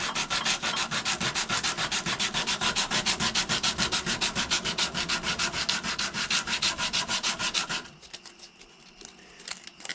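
Sanding a powder horn with 80 grit sandpaper: fast, steady back-and-forth rasping strokes, loud and close, running continuously for about eight seconds before stopping abruptly, leaving a quiet room.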